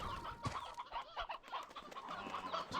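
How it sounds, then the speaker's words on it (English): Chickens on a ranch in a video game cluck in quick, irregular bursts, fairly close and overlapping, with no talking. "The chickens here."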